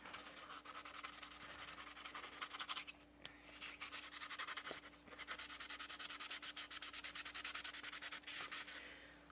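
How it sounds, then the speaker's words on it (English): Sanding of an acrylic blank keychain, a continuous close rasping scrub in fast back-and-forth strokes, with a brief pause partway through and no voices. "So let me sand it first."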